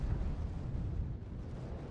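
A bombing explosion in Wargame Red Dragon, a deep, rolling rumble of blast that stays heavy and sustained through the moment, fairly loud with no talk over it.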